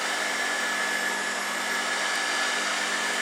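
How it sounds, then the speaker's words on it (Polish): A Zelmer Aquawelt 919 1600W vacuum cleaner with its upholstery-washing pump running gives a steady, loud, high-pitched whirring roar that holds unchanged throughout. "Włączamy pompę."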